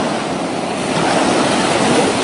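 Ocean surf and gusting wind at a beach form a steady, loud, broadband roar that fills the whole stretch, with no voices.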